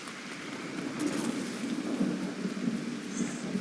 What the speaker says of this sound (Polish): Idzie burza.